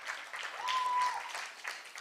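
Audience applause for a volunteer at a stage magic show, a broad wash of clapping that swells, holds and tapers over two seconds, with a faint voice briefly audible underneath.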